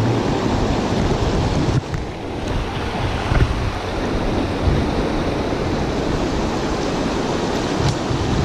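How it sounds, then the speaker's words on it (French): Strong wind buffeting the microphone beside a Pyrenees mountain stream while fishing, in a constant low roar, with a brief dip and gusts throughout, no speech. "Wow, le vent."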